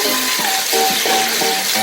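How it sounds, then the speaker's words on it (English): Chicken feet go into a hot pot of oil for a Filipino and Jamaican style adobo stew, giving a brief, steady sizzle and crackle at close range with no talking. "So now I'm going to add the chicken feet into it,"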